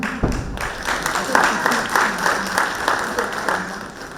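An audience claps at a memorial event for a fallen soldier, with steady, full applause sustained from start to finish and sharp individual claps standing out.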